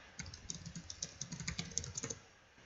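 A chat message being typed on a computer keyboard, a quick, even flurry of light key clicks lasting a couple of seconds, quiet and close, with nothing else heard.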